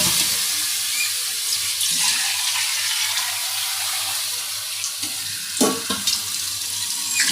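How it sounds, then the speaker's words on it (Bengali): Water goes into a pan of frying small fish with tomato and potato curry, raising a steady, close hiss of sizzling with a few sharper bursts near the end; no one speaks. "কষানো হয়ে গেছে, আমি পানি দিয়ে দেবো এবার"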